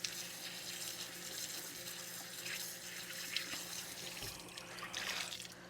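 Water runs steadily from a kitchen tap onto a small towel being dampened during bread making, a continuous close hiss and splash with slight variations and no talking.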